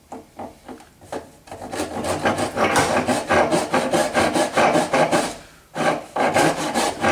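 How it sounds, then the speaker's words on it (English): Handsaw cutting a wooden dovetail baluster, a rasping sawing sound, close up; a few slow strokes at first, then continuous back-and-forth cutting with a brief pause near the end. "I think a handsaw may actually end up being faster for this."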